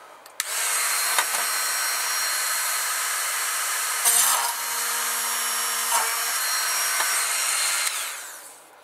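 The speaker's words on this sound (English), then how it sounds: "after each drilling of each hole, I'm just cleaning off the drill bit" Small power drill boring holes in a Bandai 1:44 scale Millennium Falcon plastic model kit: a loud, steady high-pitched whine lasting several seconds, with a brief pitch change midway as the bit bites, then winding down.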